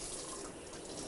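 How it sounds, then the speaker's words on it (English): Tap water runs steadily into a galley sink, a continuous close splashing hiss with no talk. "Let me get a little bit of water."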